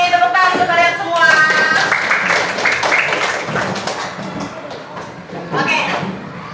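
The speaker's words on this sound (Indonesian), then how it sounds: "Tepuk tangan untuk kalian semua." A classroom of students claps together in applause, a dense, sustained burst of clapping that swells and then tapers off, with voices mixed in.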